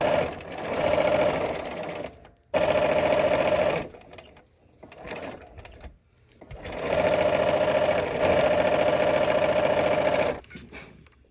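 Sewing machine stitching quilt seams on a flower block, running in two long steady bursts with short pauses between, close and loud.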